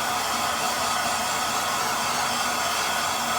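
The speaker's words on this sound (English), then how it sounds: "get the torch in here" A propane torch flame heating mild steel plates during a roll cage install on a 1988 Mustang, a loud, continuous steady roar with no break.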